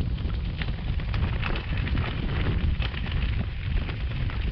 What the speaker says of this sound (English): And I have a huge headwind.